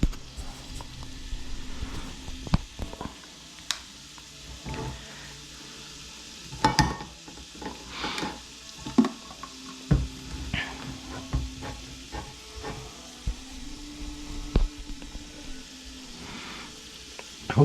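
Diced tomatoes sizzling in a pan for vegan chili, a soft steady frying hiss broken by repeated clanks and scrapes of stirring, close by with no talk.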